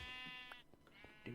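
Sheep bleat in Minecraft during a sheep purge, two or three short wavering bleats close together, fairly quiet with no talk.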